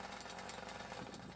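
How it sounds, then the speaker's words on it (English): An Atlas Copco Cobra Combi gas-powered rock drill runs continuously as it bores into rock, giving a loud, steady, rattling hammering roar with no pauses. "Drill a hole corresponding to the dimension of the eyelet."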